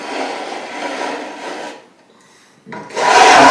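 Sandpaper rubbing along the edges of an Epiphone 1959 ES 355 reissue guitar, loud close rasping strokes with a short pause before a harsher pass resumes.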